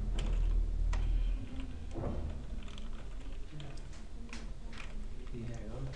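Keys clatter on a computer keyboard during a Windows lesson, with steady typing running under someone speaking Persian and a low hum in the background.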